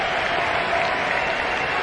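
A nearly full college baseball crowd at an Ole Miss versus LSU game cheers and applauds in a dense, steady roar that fills the stadium for about two seconds.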